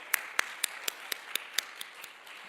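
Claps ring out in a church youth service, a steady run of about ten evenly spaced, crisp slaps that are fairly faint and thin out toward the end.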